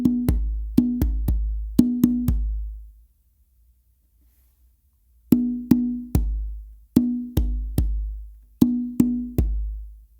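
Conga drum pattern of sharp open slaps and deep bass tones in short bursts, a pause of a few seconds, then the rhythm repeats, close and clear.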